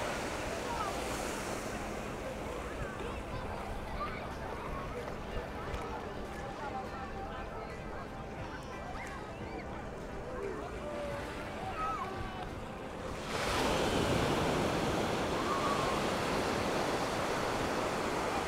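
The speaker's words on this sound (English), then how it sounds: "It's a lovely sandy beach here" Sea waves roll onto the sandy shore of Nai Harn Beach, Phuket, in a constant rushing wash with wind noise, swelling louder near the end, with indistinct voices in the background.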